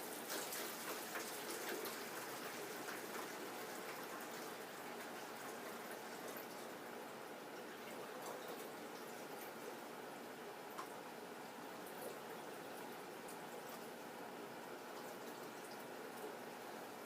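Water pours steadily into a container being tested for capacity, a faint continuous trickling splash lasting the whole stretch without a break.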